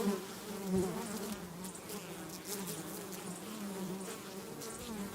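Honeybees buzz steadily in an ASMR recording made where bees are kept, a continuous close droning hum with individual insects passing nearer at times.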